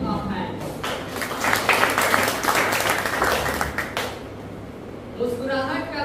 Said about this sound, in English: Let us thank the brothers by clapping our hands.